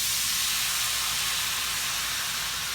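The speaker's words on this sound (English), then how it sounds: "Get it melted off here in the pan. It's a little hot there. Then we're gonna add our apples to this." Apples hitting melted butter in a hot pan give a steady, close, bright sizzling hiss that holds evenly for a few seconds, with no voices over it.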